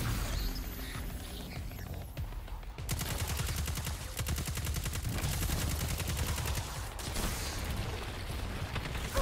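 Rapid automatic gunfire rattles in sustained bursts during a firefight in the shooter game Destiny 2. The shots are loud and close, with a brief lull before a long, dense stretch of fire.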